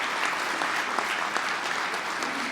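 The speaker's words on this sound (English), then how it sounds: "let's all give you a round of applause" An audience at a transportation policy event applauds, a dense, even wash of clapping from many hands that continues steadily through the short stretch.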